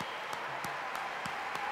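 A crowd at an ACN company gathering claps together in a slow, even rhythm for a departing colleague. The regular strokes sit over a continuous bed of crowd noise.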